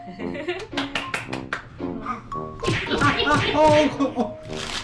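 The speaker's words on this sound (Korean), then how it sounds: "박수 한번 쳐봐" A few sharp hand claps in a quick burst near the start, followed by a child and adults chattering and laughing close by.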